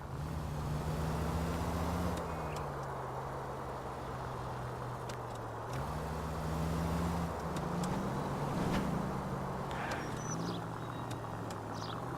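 Car engine in the video game L.A. Noire, a steady droning hum that shifts pitch as the car speeds up and slows, continuous and fairly loud throughout.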